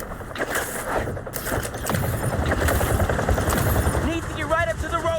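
Helicopter rotor noise in the video game Marvel's Spider-Man 2, a loud continuous low throbbing drone mixed with gunfire-like bursts and game sounds throughout.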